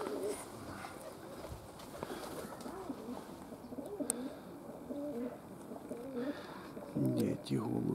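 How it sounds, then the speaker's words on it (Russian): Rock pigeons coo in a loft where a keeper handles his birds, soft repeated coos rising and falling at close range alongside faint background bustle and occasional flutters, with no clear speech over them. "Где эти голуби? Вот они."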